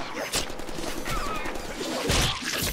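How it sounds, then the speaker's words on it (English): Rapid gunfire crackles in the Deadpool video game, with a burst of shots near the start and a heavier volley later over a dense background of game noise. "You gonna stop shooting at me, bro."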